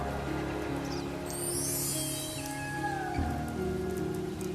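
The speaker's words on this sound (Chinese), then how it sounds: "松树上的雨滴。" Rain drips and patters from pine trees in a constant soft wash of droplets, with a steady low tonal hum running underneath.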